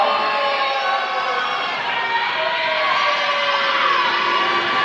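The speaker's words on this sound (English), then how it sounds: "Decent crowd right now, getting into it for sure." A crowd at a women's basketball game cheers and shouts steadily, a loud, continuous roar with whoops rising above it throughout.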